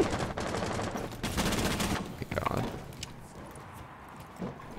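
Rapid automatic gunfire from Rainbow Six Siege rattles in dense bursts, loud and close, then thins into scattered shots and faint game noise toward the end, with no voice over it.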